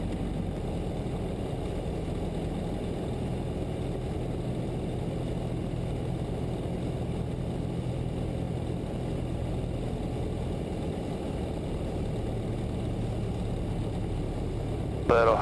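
A small floatplane converted to big tundra tires, its engine running with a steady, even drone at close range throughout, with a brief sharp rattle at the very end.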